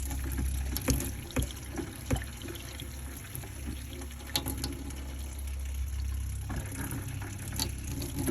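Water runs from the freshwater pump on a Bayliner 2655 boat, a steady close splashing and trickling flow with a low pump hum underneath and occasional small knocks.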